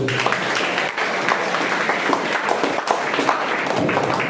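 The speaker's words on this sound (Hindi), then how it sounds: "तालियां" Audience applause in a career counseling seminar hall at an inter college, steady dense clapping filling the room for a few seconds without pause, fairly loud and close.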